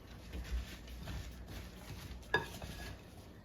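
Soft, continuous stirring and scraping of candied pecans in a pan, quiet and close, with one sharp metallic clink partway through.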